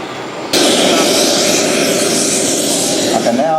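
A jet aircraft roars past at the East Kirkby airshow, a loud broad rush that swells suddenly and holds, with a voice faintly present beneath.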